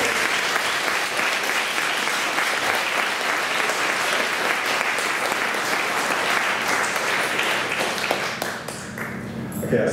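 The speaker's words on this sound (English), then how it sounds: "So I think for both Craig, Cube, and Belinda, let's give them a big round of applause." Sustained audience applause at a live event in London, dense and loud for nearly ten seconds before thinning out toward the end.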